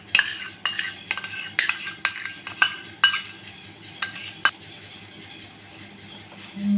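A spoon mixes semolina batter with sour yogurt in a bowl, tapping and scraping against the sides in a quick run of close clinks that slow and then stop.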